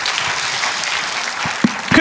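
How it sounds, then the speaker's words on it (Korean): An audience at a political rally gives a short burst of steady clapping, heard close and fairly loud for about two seconds. "박수하겠습니다 우리."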